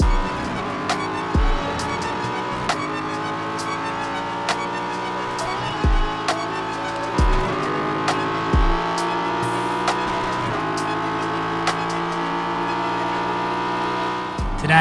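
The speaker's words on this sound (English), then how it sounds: "Today we are driving the absolutely awesome Ford Mustang GT4, an absolutely beautiful naturally aspirated 5-litre V8 producing over 500 horsepower." A Ford Mustang GT4 race car with a naturally aspirated 5-litre V8 in the iRacing sim at Le Mans, engine droning loud and continuous while it climbs through the revs, broken at intervals by sharp gearshift blips.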